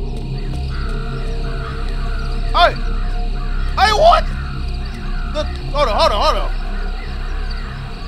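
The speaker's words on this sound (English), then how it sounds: "Bro, what these birds doing on the grill?" Crows cawing in the horror game Chilla's Art The Kidnap: several harsh caws arrive in short bursts, some overlapping, with a voice speaking briefly between them over a low background hum.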